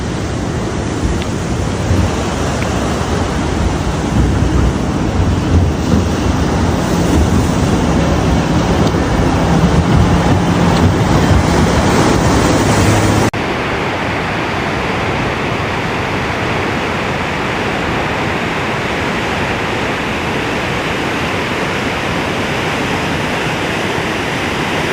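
Massive surf pounding the California coast during flooding, a loud, continuous broadband roar of crashing water that drops in level partway through and carries on more softly.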